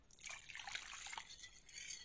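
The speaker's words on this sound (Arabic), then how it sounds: "بعد كده هجيب كوبايتين مية سخنة،" Hot water pours into a cup at close range, a steady soft splashing trickle lasting about two seconds, quiet and alone.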